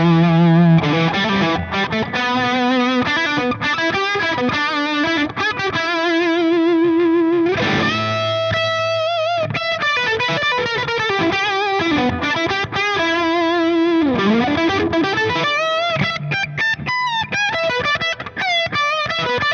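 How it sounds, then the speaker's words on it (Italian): An electric guitar plays through a Friedman Dirty Shirley Mini 20-watt amp with overdrive, giving creamy, saturated rock-blues riffs and sustained bent notes, loud and continuous with no talking. "di più con il gain e con la saturazione e sempre con la stessa chitarra, ho ottenuto dei suoni rock blues veramente cremosi"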